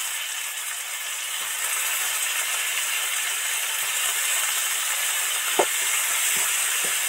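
Grated onion fries steadily in a pan for Bengali duck egg curry, a loud continuous sizzle with a few sharp utensil clinks and scrapes near the end, no voices.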